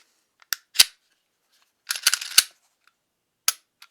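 A Smith & Wesson M&P Shield 9mm polymer pistol being handled: a few sharp metallic clicks, then a quick cluster of slide-racking snaps and a firm lock, followed by a single later click, close and crisp with no talking.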